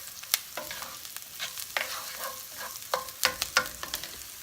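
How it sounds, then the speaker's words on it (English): Onions fry in a pot with a soft, steady sizzle while a utensil stirs them in short, scraping strokes, the clinks and scrapes coming in irregular bursts close by. "we're going to get the onions in, and we're just going to get them translucent"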